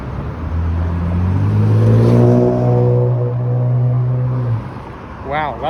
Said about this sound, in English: Wow, that's some grouchy engine.